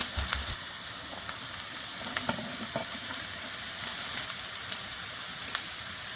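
Minced meat and onion sizzle steadily in a frying pan, a soft continuous crackle with a few faint clinks and stirring sounds, fairly quiet and close.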